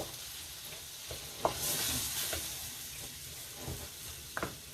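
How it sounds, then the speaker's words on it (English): A spoon stirs turmeric and spices around a pan, with soft scraping and a steady gentle sizzle and a few light knocks against the pan, close up, with no one speaking. "Then just go ahead again, and then I'm going to mix this around."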